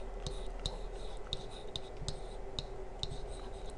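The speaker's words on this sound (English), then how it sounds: "So I'm going to write out the problem." Pen or pencil writing out an algebra problem by hand on paper: steady quiet scratching with a series of light, regularly spaced tapping strokes, close and soft, with no talk over it.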